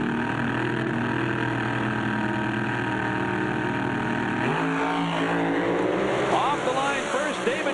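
Drag racing cars in the staging area rev their engines in a dense, continuous roar, heard from a distance under crowd noise and background talk, with rising rev sweeps near the end.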